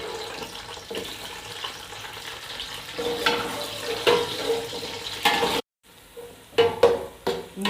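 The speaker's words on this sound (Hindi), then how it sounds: "अब ये मैं प्याज इसमें डाल दूँगी।" Four chopped onions hit hot oil in a pot and fry with a steady sizzle, punctuated by scraping and stirring clatters and a brief pause before the frying noise resumes.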